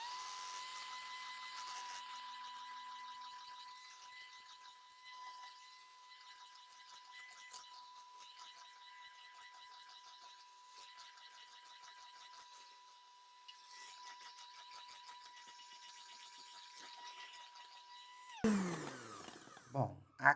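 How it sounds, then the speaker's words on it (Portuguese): An electric mixer runs steadily as sugar is beaten into sponge cake batter for a rolled cake, giving a continuous whirring hum with a constant pitched whine, at low level, then stopping abruptly near the end with a few clattering knocks. "Agora tenho aqui meia xícara de açúcar e nós vamos colocar aqui também aos poucos, tá bom? Com a batedeira ligada sempre."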